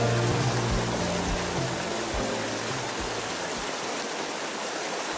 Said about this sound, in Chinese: 瀑布是圆潭溪最具魅力的自然景观